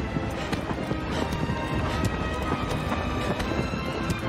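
Horse galloping in Shadow of the Colossus (2018), a fast, steady clip-clop of hooves pounding close and loud over a noisy background, continuing without a break.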